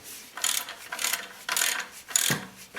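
A hand ratchet clicks in five short bursts, close and crisp, tightening the belt back plate bolts on a DC 1260 machine during a belt change, with no talking.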